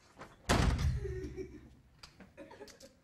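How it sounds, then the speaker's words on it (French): A door slams shut with a loud, sharp bang followed by a short rattle and fading echo, during a theatre workshop scene. "Claque la porte."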